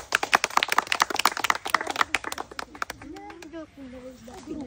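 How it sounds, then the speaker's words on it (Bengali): Audience clapping hands at a spin-the-wheel food game show, a burst of lively rapid applause that fades out as a voice starts talking near the end. "হাততালি হবে সবাই, হাততালি"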